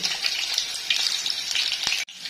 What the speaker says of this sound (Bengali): পেঁয়াজগুলো ভালো করে একটু ভেজে নেবো বাদামি কালার করে।